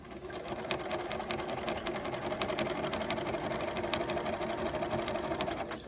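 A sewing machine runs steadily for several seconds, stitching a seam on a beginner's baby quilt, its fast even needle rhythm close and continuous with no talk over it.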